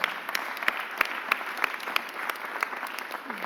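Steady clapping from a small gathering at a mayor's press conference, honoring a councilmember, with crisp nearby claps over a continuous patter.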